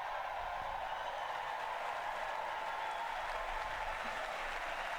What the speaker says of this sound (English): they all clap for each other